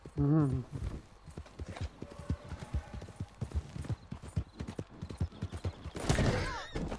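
Hooves of a galloping horse in the video game Red Dead Online beat in a steady clip-clop rhythm, with a brief whinny at the start and a person talking over much of it.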